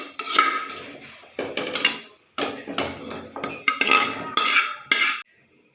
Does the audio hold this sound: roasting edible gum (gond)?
yes